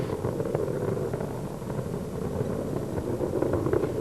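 Space Shuttle Atlantis main engines at launch of STS-122, three liquid-fuel engines throttling back during ascent, a steady broadband rumbling roar heard from a distance, continuous and fairly loud with slight swells, no talk over it.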